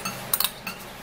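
A spoon scoops plain yogurt into a bowl for a face mask, giving a few quick, close metallic clinks against the rim in a quiet room.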